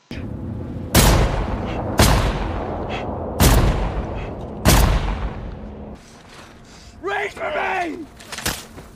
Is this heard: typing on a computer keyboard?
no